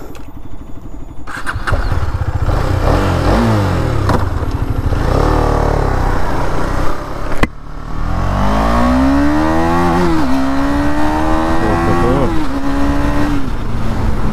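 A 2022 BS6 KTM Duke 250 motorcycle starts up and is ridden, its engine close and loud, revving and climbing through gear changes with rising and falling pitch.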